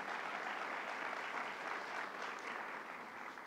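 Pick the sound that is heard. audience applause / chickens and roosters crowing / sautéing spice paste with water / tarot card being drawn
audience applause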